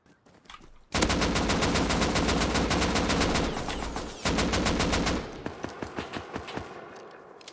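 Rapid automatic gunfire from guns in the survival game Rust rattles on in dense, loud bursts, breaks briefly near the middle, resumes, then thins into scattered, fading shots.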